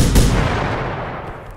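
A single loud, close gunshot in the video game The Final Station, a sharp blast followed by a decaying rumble that fades over about a second and a half.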